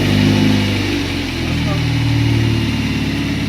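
A 4-cylinder turbo Camaro engine running with its exhaust hooked up, a steady close idle with low rumbling harmonics and a slight rise in revs, under people talking nearby.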